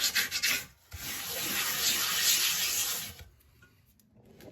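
Half a raw potato with coarse salt is scrubbed over a rusty cast iron skillet. A few short rubs come first, then about two seconds of steady, close abrasive scraping, then it stops.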